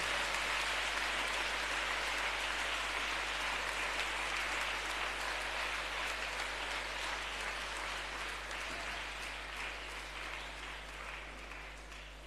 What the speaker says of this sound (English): Shall we give a good round of applause for His Excellency?